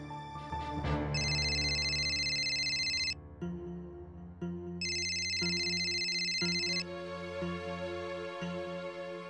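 A phone rings in a Marathi TV serial scene, its electronic tone sounding in two long bursts separated by a pause while a soft musical background plays underneath and nobody picks up.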